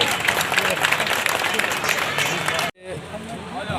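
A crowd at a statue unveiling in Makhdumpur applauds Murari ji, a dense, loud burst of clapping that cuts off abruptly near the end, followed by quieter room sound.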